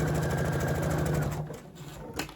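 A sewing machine backstitching through a heavy quilt, a rapid steady mechanical whir of stitching close by that stops after about a second and a half, leaving a faint click and rustle.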